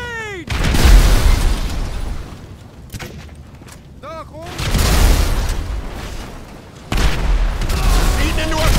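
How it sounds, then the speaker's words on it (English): Grenade launcher blasts and bursts of gunfire in the video game GTA 5 during a firefight at a farm, loud booms and rapid pops arriving in clustered waves with brief lulls between. "He launched a grenade!"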